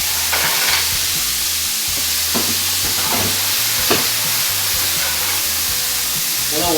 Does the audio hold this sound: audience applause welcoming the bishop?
no